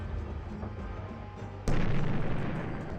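Artillery fire in the 1997 Warhammer 40,000 Final Liberation video game, a steady rumbling bombardment that jumps into a sudden loud blast and continues as heavy booming.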